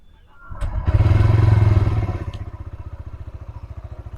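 A TVS Raider motorcycle engine cranks and fires up close, a brief starter whir swelling into a loud, steady idle that settles into an even, pulsing throb.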